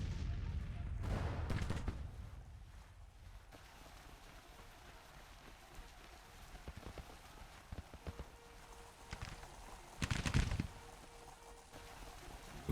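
Scattered gunfire from a Civil War battle in a video game: distant popping volleys in clusters, strongest early and again near the end, with quieter crackling shots in between.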